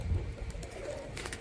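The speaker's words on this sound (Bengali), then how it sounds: "7 পিস পায়রা উড়ানো হয়েছে, দেখছেন বন্ধুরা, একসাথে ঝাঁকে উঠছে খুব সুন্দরভাবে।" A flock of seven pigeons being released, with a brief low coo and soft bird sounds at close range amid faint rustling, lasting only a moment.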